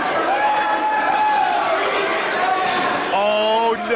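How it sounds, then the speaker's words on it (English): Crowd in a wrestling arena at an NWA World Title bullrope match roars and cheers steadily throughout, with whoops and shouts rising near the end. "The crowd cheering for it."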